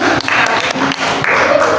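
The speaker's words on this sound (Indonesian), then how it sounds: "tepuk tangannya untuk narasumber hari ini" A seated audience claps for a guest speaker at an indoor school presentation, giving a dense, loud, continuous burst of applause with no talk.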